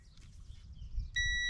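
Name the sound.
ignition switch beeping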